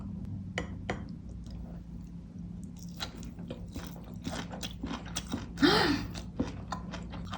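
Someone biting into and chewing a small mouthful of tempura-fried fatsia shoot over a rice bowl, with soft crunches and wet chewing up close and one louder crisp crunch near the end.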